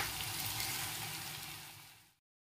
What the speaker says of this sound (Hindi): तो इसको हाई फ्लेम में 2 मीडियम तक भून लेंगे।